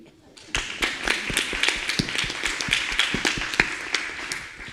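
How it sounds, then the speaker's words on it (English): Audience at a 2022 Avatar Day program applauding, a quick run of sharp claps starting abruptly and continuing at moderate loudness, fairly near, with some spoken sound mixed in. "I would like to ask for one more round of applause for Srija volunteering to do the negative ro"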